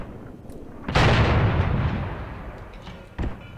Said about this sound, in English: Guns are doing some work here.